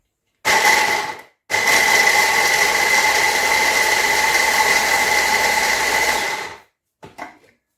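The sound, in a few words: kitchen blender running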